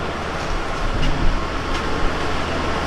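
Local passenger train travelling through Pakistan at around 90, heard as a steady, dense rumble and hiss with no talking.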